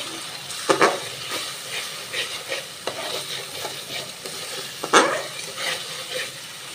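Chicken pieces frying in sautéed spice masala in a pot, with a steady close sizzle and hiss broken by several scraping stirs and clanks, no talking.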